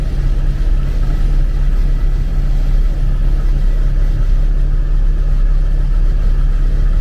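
A Lada 2106 or Volga 2410 car on the move, its engine giving a steady low rumble with constant road noise from inside the cabin, loud and unbroken throughout.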